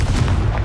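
A single deep, booming burst from the Confringo fire spell in Hogwarts Legacy, a short, loud explosive thud heard alone.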